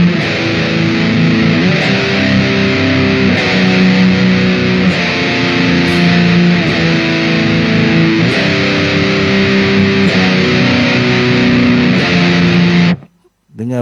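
Heavy distorted electric guitar power chords with an added fifth an octave lower ring out in long sustained blocks, changing every second or so, thick and loud with a deep low end.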